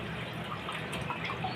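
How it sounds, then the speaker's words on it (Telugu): Water runs into a cooking pot on a gas stove, a faint, continuous trickling wash with a few soft drips, and no voices. "వాటర్ వేసుకుంటున్నాను సరిపడగా"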